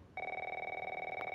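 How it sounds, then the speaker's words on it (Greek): A phone rings inside the video game The Last of Us, one steady electronic trill that starts abruptly and holds for over a second, close and clear with no voices over it. "Τηλέφωνο για να δούμε."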